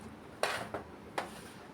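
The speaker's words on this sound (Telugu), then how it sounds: "ఇప్పుడు దీన్ని చక్కగా చిన్న చిన్న ముక్కలుగా కట్ చేసుకుందాం." A knife chops raw jackfruit into small pieces on a board, three quick, quiet cuts with short gaps between them.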